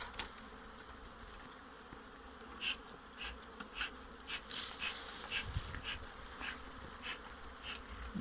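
A honeybee swarm buzzes around a beehive while being shaken into it, a continuous dense drone with individual bees flitting louder past the listener at moments.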